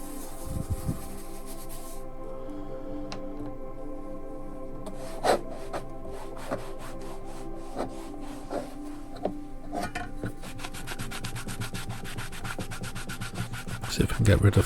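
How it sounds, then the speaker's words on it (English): Rough, steady scrubbing of a 40-year-old Harrier CB radio with foam cleaner, close and continuous with occasional harder strokes and small clicks. "But first, as always, good going over with some foam cleaner."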